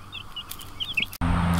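Chickens in a Joel Salatin-style chicken tractor give soft, close clucks while pecking at grass, several short calls over a low background hum before a sudden cut.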